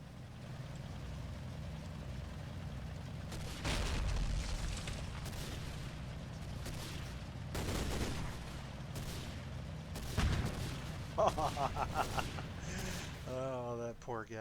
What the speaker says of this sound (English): God, I love those canister rounds.